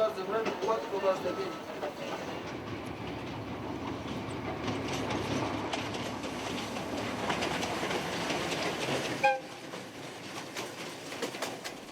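A train in Bolivia rumbles along the rails across the Salar with a steady rolling clatter and rhythmic clicks, heard from nearby with faint voices over it.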